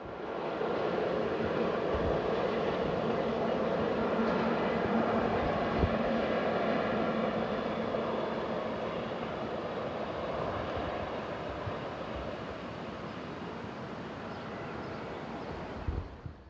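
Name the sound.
train heading east on the approach to Ruras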